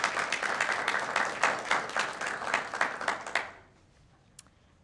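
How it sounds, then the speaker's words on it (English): Audience applause at a high school Veterans Day ceremony: dense, steady clapping from many hands that fills the hall for several seconds, then stops abruptly into near silence with one faint knock afterward. "Can we give them another round of applause?"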